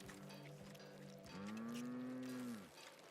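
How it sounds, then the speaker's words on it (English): Woolly cows mooing aboard a spaceship in the video game The Outer Worlds, one long drawn-out moo that rises and falls over low ambient hum, fairly faint and without talk. "Who let these cows on my ship?"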